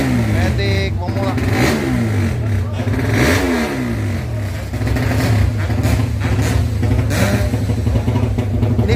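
At a drag race event, a matic scooter engine revs hard and loud throughout, its pitch rising and falling, while people talk over it.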